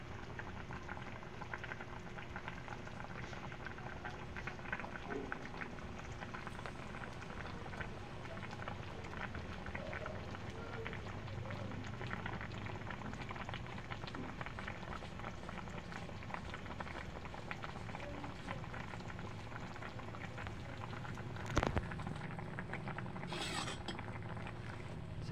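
Ginataang manok with papaya simmers in a pot, bubbling softly and steadily throughout with a faint occasional clink near the end.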